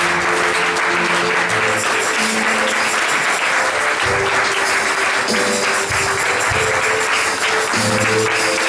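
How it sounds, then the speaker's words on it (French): A church congregation applauds to acclaim the Lord, steady dense clapping that fills the room loudly and evenly from start to finish. "Est-ce qu'on peut acclamer le Seigneur?"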